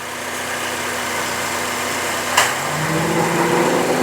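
A 2011 Honda CR-V engine idles steadily in a shop, close and even, with a brief click near the middle as the AC compressor clutch cycles and the idle tone shifts slightly afterward.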